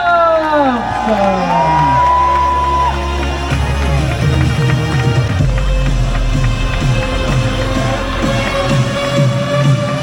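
A crowd at a Paris 10 km race awards ceremony cheers and whoops, with shrill rising shouts and a roar of voices that stays loud and unbroken over ten seconds.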